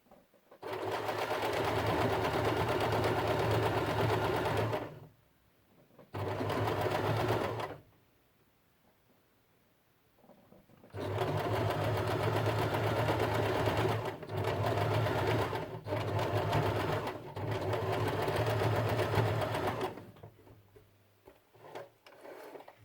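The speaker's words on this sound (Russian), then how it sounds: "При прострачивании сильно не растягиваем нашу полоску." A sewing machine stitches fabric strip ends together for a braided crib bumper, running in steady whirring bursts of several seconds, separated by quiet pauses and short stops.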